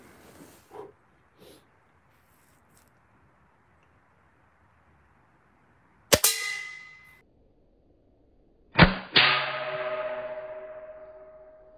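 A 210 lb compound crossbow is shot into a riot shield, giving two sharp metallic clangs a few seconds apart, each ringing out with a bright decaying tone, after faint handling noises.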